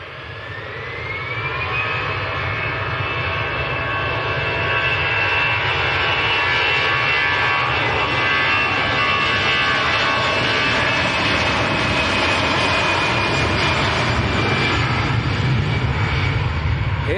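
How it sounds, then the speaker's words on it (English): An easyJet Airbus A320 jet airliner bound for Geneva roars at Manchester Airport, a loud, sustained broadband engine rumble that builds within the first two seconds and holds steady with a high whine layered on top. "Right, Geneva, the destination of this EasyJet."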